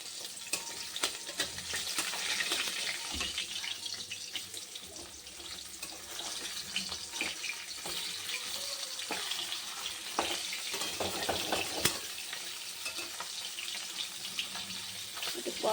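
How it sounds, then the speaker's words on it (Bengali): Fish fry in hot oil in a wok, a fairly faint continuous sizzle with irregular crackles and knocks of handling running through the whole stretch. "এবার মাছগুলো ভেজে নেব"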